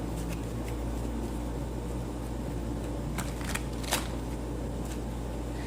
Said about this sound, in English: I'm going to shuffle a bit more here